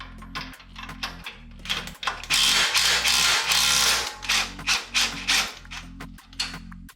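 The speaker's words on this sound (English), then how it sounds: "get your impact in there and take the nut off." Impact wrench rattling off the nut of an upper control arm bolt on an off-road truck, a loud sustained hammering burst in the middle framed by shorter rapid bursts and metallic clicks, close and alone.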